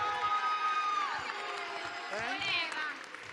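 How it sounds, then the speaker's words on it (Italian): Crowd at a community event in Ollolai clapping and cheering, with scattered shouts and whistles over a steady wash of applause, moderately distant, and voices mixed in. "Facciamo loro un bel applauso a tutta Ololai"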